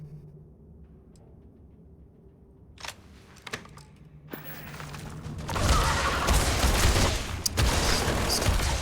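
Gunfire in Starfield, a few sharp isolated shots early, then a sustained loud burst of rapid fire and impacts filling the latter half, with little talk.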